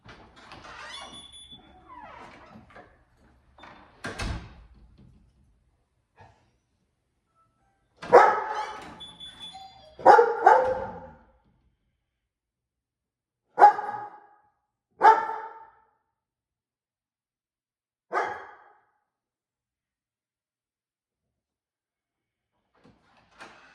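A dog lets out sharp barks, singly or in pairs, separated by stretches of near silence.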